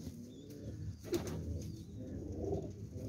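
A Shikra breed pigeon coos softly nearby, low murmuring calls repeated at an indoor loft with a brief wing flutter, faint and without talk.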